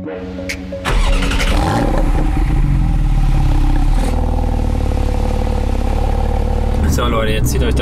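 A Porsche 911 Carrera 4 GTS (991.2) in sport mode with its PDK in the manual gate roars up loudly after a brief quieter start and holds a dense, sustained engine note through gear changes, with talking over it.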